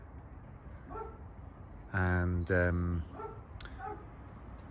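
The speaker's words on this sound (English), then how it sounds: "you can probably hear my dog barking in the background" Two loud, close dog barks in quick succession, with softer yips before and after over faint background noise.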